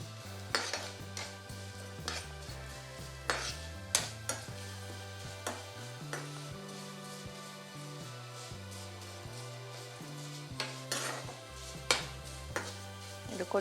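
Noodles frying in a little oil in a pan, heard as a soft sizzle broken by sharp, irregular clinks of a utensil stirring against the pan, with background music throughout.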